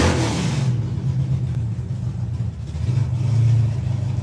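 A Sunoco-liveried 1970 Chevrolet Chevelle drag car at a nostalgia drag racing meet revs its engine, a close, heavy, steady rumble that swells and eases slightly with the throttle.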